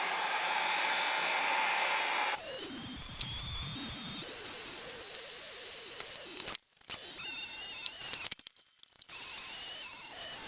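A heat gun on low heat blows steadily across stickers on a Jeep JL Wrangler tailgate to soften them for peeling, a continuous airy whoosh with a few brief dropouts where it is switched off and back on.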